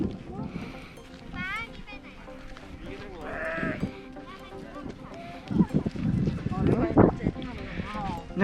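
Sheep bleat repeatedly on a sheep farm at Doi Chang in Chiang Rai, Thailand, with wavering calls rising over a busy background of people talking close by and shuffling hooves.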